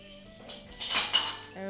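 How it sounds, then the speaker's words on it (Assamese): A small child plays with a metal pressure cooker lid, making a short flurry of clattering, clinking metal knocks that rise in the middle and then fade, with a quiet indoor background. "আৰু কুকাৰৰ ঢাকনিখন খেলি আছে।"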